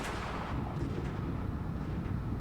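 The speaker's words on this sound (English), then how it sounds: "The sudden sound of a gunshot shook me out of my half-asleep trance" Gunshot effect from the video game Umineko: a dull, heavy blast with a rumbling tail, moderately loud and alone, with no talk.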